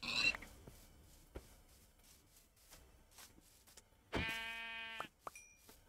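A sheep in a survival video game gives one clear, drawn-out bleat late on, preceded by soft footsteps and small clicks at low level.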